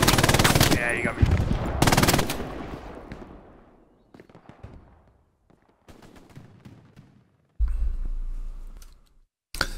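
Machine gun fire in Hell Let Loose, with rapid loud bursts early on that give way to scattered distant shots and quieter battle noise, followed by a late rumbling burst.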